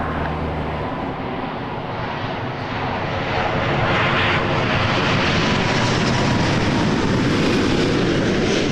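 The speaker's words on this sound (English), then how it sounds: "Beautiful British Airways 777." A British Airways Boeing 777 jet airliner at Toronto Pearson Airport at night, a loud, steady engine roar that builds slightly and holds as the plane passes close by.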